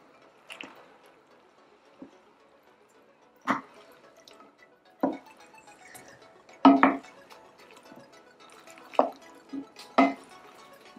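Egg yolks, grated cheese and pepper being stirred into hot pasta carbonara, giving soft wet squelching and sticky clicks in scattered bursts, close up with no talking.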